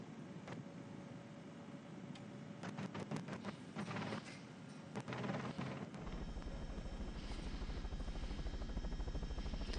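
A helicopter hovers above a professional road bicycle race in the Netherlands, its steady rotor drone faint and distant, with a few sharp clicks early on before the hum settles and continues alone.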